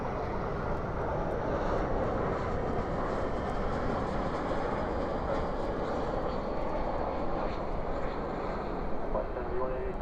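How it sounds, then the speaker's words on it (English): Qantas Boeing 787 Dreamliner landing at night at a busy airport with spoilers up and thrust reversers out, heard as a continuous, fairly distant broadband rumble and roar with a faint voice beneath. "Spoilers up, reversers out."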